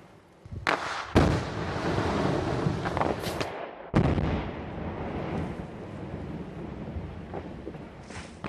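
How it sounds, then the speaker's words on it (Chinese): Controlled explosive blasting breaks up landslide boulders on a blocked road in Placer County, California: two loud, sharp blasts with rumbling debris and a long roaring tail, heard at some distance with no talk. "工作人员19号利用炸药将前一天发生山体滑坡之后落在公路上的巨石炸开"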